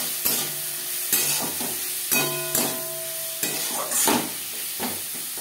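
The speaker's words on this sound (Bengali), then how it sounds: "পেঁয়াজ টমেটোর সাথে বেশ ভালো করে মিক্স করে দেবো।" A spatula scrapes and stirs a sizzling mix of onion, tomato and spices in a pan for katla fish curry, with repeated knocks against the pan over a steady frying hiss.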